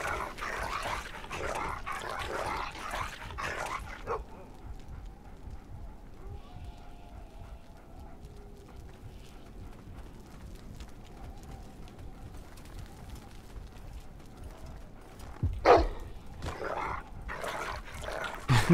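A dog snarls and barks while attacking an armored man in a Game of Thrones RPG fight, loud growling bursts at the start and again near the end, separated by a long quiet stretch of low ambience.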